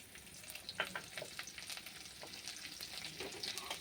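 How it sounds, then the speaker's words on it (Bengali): Chopped garlic with bay leaves frying in hot oil in a pan, giving a faint, steady sizzle with light crackles and stirring scrapes throughout. "রসুন কুচিটা ভালোভাবে ভেজে নিব।"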